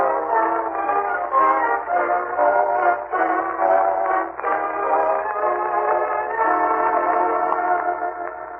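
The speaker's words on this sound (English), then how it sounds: "our friend, the Great Gildersleeve, as he and Marjorie and Leroy wait in the Summerfield Railroad Station for the arrival of that well-known authoress" Train sounds at a railroad station produced as a radio drama sound effect: a steady, loud rumbling wash of rolling wheels and carriage noise that persists for the whole stretch, with no voices over it.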